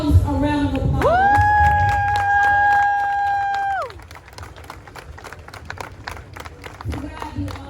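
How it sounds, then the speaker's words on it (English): An outdoor crowd at a Black Lives Matter march in Columbia, South Carolina claps and cheers steadily, with a sustained whistle or shout over the applause before it thins to scattered clapping. "Give yourselves a round of applause."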